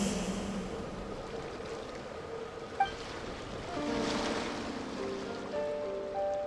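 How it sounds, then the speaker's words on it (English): Ocean waves wash in a steady, soft surf inside the Genshin Impact video game, continuous and moderately distant, with faint musical tones drifting over the water. "Go to where you can hear the sound of the waves."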